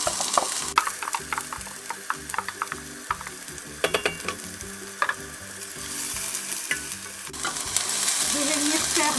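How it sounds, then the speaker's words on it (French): Onion and a garlic clove frying in olive oil in a saucepan, a steady soft sizzle broken by frequent clicks and scrapes of a utensil stirring against the pan, with no talking. "Je vais venir faire blondir l'oignon"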